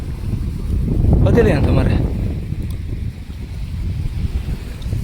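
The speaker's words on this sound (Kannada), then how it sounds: "ಒಳ್ಳೆ ಗಾಳಿ ಮಾತ್ರ" Wind blows at the seaside in Karwar, a loud rumbling gusty roar buffeting the microphone throughout, with a person talking briefly in the middle.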